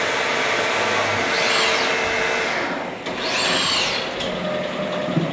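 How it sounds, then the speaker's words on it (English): A 1997 Haas VF7 50-taper CNC machine spindle running at up to 5,000 RPM, with new drives fitted, gives a loud, steady whirring drone. Two high whines rise and fall in it, one after the other. "1997 Haas VF7 50 taper."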